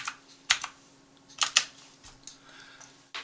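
Fingers tapping a computer keyboard to enter a value, a few quick close clicks in small clusters over a faint steady fan hum.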